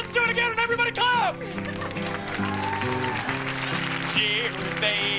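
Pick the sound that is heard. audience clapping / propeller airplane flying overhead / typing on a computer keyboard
audience clapping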